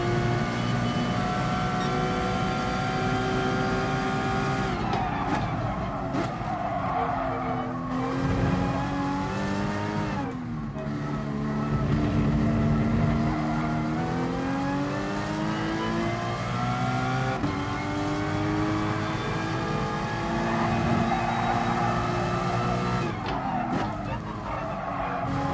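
A race car in a PS4 racing game revs hard at full throttle, with a whining engine rising and falling through gear changes, tires squealing and skidding, loud and continuous for the whole stretch.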